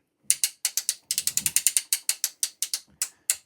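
A long arm quilting frame is hand-cranked, giving a sharp ratchet click for each step, about a dozen and a half crisp clicks in quick irregular succession, close and alone.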